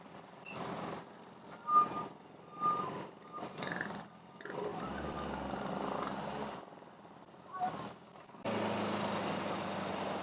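Mixed road traffic, including tricycles, rolls past on a highway through a town beside a school. Engines swell and fade as vehicles pass in bursts and one steady engine drones nearby. No voices.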